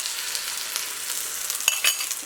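Beaten eggs, three of them, scramble in a pan on the stove, giving a soft, steady sizzle throughout with a few brief sharper crackles and scraping stir sounds near the end.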